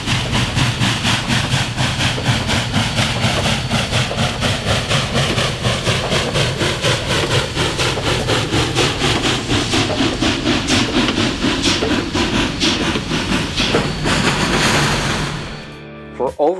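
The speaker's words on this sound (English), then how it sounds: "4014 continued to push the train in an attempt to get it up and over the hill" Union Pacific 4014 Big Boy steam locomotive shoving a freight train uphill, loud rapid chuffing exhaust beats pounding steadily over a deep rumble for most of the clip before fading out at the end.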